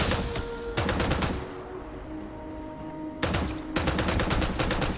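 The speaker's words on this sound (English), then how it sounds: "Fucking machine gun." Machine gun fire in the video game Starfield comes in two loud, rapid bursts of automatic shots, each lasting about a second or more, separated by a quieter gap.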